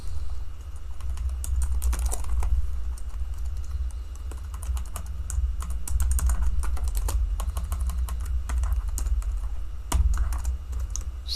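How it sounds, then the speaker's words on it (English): Steady, close typing on a new computer keyboard: quick clusters of light key clicks with short pauses over a low background hum, and no talking. "Still getting used to the new keyboard."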